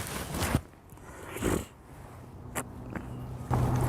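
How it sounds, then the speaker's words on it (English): A few short nasal sniffles close to the mic outdoors in cold weather, breathy and irregular, with quiet rustling between them. "I apologize for my sniffles, guys."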